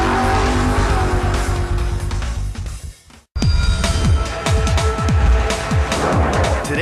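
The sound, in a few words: Supercomp dragster racing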